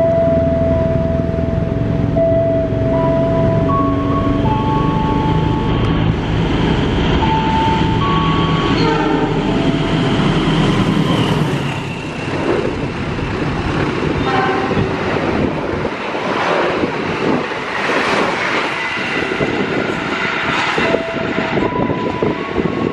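A passenger train with a dining power car and New Generation economy coaches rolls past a station platform, a loud rumbling roll with horn-like tones early on, then rattling wheel clatter that fades somewhat.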